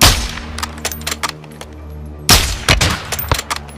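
Gunfire in Call of Duty: Modern Warfare 2 during a ghillie-suit sniper mission: a rapid burst of sharp shots, a pause, then a second loud volley and scattered single cracks over a low steady game hum.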